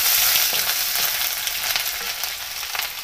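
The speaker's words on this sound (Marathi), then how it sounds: "जिरं छान तळतळलं आहे" Cumin crackling and frying in hot oil with ginger-garlic paste added, producing a loud, close, continuous sizzle with soft spatters and light stirring, no one speaking.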